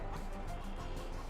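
Chickens cluck briefly in Farming Simulator 22, a short burst of soft, close fowl chatter over a steady farm-game background.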